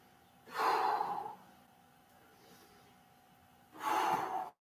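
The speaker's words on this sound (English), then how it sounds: "Exhale as I stand." Two audible breaths pushed out while rising from a standing exercise, close and breathy, separated by a quiet pause of about three seconds.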